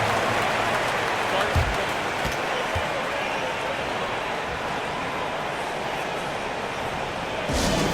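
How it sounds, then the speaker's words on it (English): Continuous crowd applause and cheering filling a virtual NBA basketball arena in the NBA 2K24 video game, dense and steady for the whole stretch, with faint voices blended into the roar. "Fans, please give a big round of applause for your Cavaliers Youth Dance Team."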